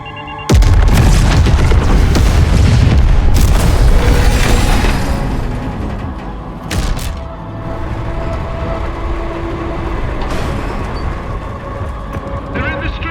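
Detonated demolition charges explode in a Warhammer 'Iron Within' battle scene: a loud, heavy boom bursts in near the start, then a long rumbling roar of blast and debris fades slowly, with a second lighter thump midway and faint voices beneath.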